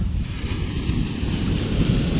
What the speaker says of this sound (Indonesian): Ya ini cuman lihat ombak-ombak aja kayak gini.